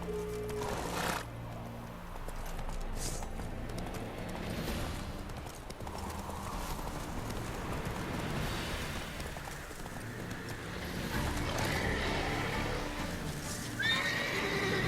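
Roach the horse from The Witcher 3 neighs and trots along, with steady clip-clop hoofbeats running throughout and a whinny rising near the end, set over game background sounds.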